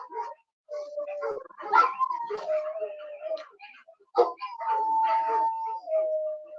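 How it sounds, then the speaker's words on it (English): Several dogs in a yard barking and howling loudly, fairly close, with overlapping sustained howls and sharp barks running throughout in a continuous chorus. "would you want to come in the yard with dogs barking like this?"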